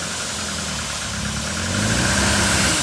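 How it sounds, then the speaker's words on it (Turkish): A Ford P100 pickup's engine runs close by, a rough, steady idle with a knocking, vibrating tone that grows slightly louder toward the end, with no talk. "aracı çalıştırdık"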